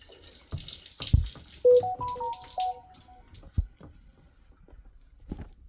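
Water draining from a Kinetico water filter in short gurgling spurts and drips, broken up by a few hollow knocks and clunks, with quiet stretches between.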